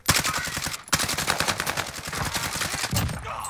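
CR-56 AMAX assault rifle firing in the video game Warzone, loud continuous rapid automatic bursts with a brief break near the first second, heard alone without talk.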